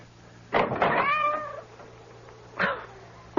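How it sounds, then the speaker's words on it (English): A soaking-wet cat meows loudly outside a front door at night, one long drawn-out cry followed by a shorter meow, with a faint knock or rattle at the end. "That cursed cat."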